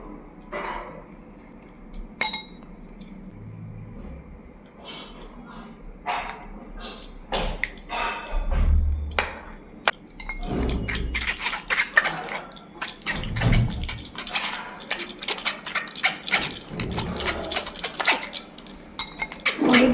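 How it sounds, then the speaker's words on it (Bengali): Bael fruit pulp is pushed through a kitchen sieve, giving close metallic clinks, scraping strokes and wet squelches in irregular bursts, with a voice occasionally heard. "এবার বেলের এই পাল্পটা ছেঁকে নেবো ছাঁকনি করে"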